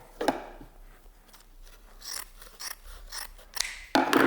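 Scissors snip through a gray abrasive pad sheet in several short, close crisp cuts with brief pauses between them, with no talking.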